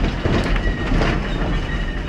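A Virginia and Truckee Railroad train runs on the rails with a loud, steady roar and wheel rumble up close, carrying faint clickety-clack and a thin wheel squeal.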